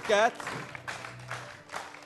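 Studio audience applause for Nərgiz Rıza on an Azerbaijani game show breaks out briefly in a scattered burst of clapping, with a host talking over it.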